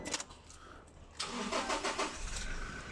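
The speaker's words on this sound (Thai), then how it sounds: "อ่าสตาร์ททีเดียวติดเครื่องเดียวเลยนะครับ" A Toyota Hilux Revo pickup with about 130,000 km on it is started with a key. After a quiet moment the engine catches on the first try and settles into a steady close idle.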